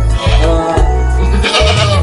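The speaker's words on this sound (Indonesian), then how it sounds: "ini jenis kambing peranakan etawa." A Peranakan Etawa crossbreed goat bleats loudly and close by, several wavering bleats in quick succession with no talking.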